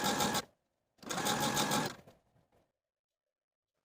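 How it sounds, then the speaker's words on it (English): A sewing machine edge stitches close to the inner fold of a shirt sleeve, running in two close bursts of steady whirring with a short pause between and quiet handling afterward. "Now we're going to take it back to the sewing machine and edge stitch close to this inner fold all the way around"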